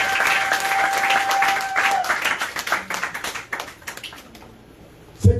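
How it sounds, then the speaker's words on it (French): A church congregation applauds to acclaim the Lord, a full burst of clapping that carries on steadily and then thins into scattered claps before a brief knock at the end. "Est-ce qu'on peut acclamer le Seigneur?"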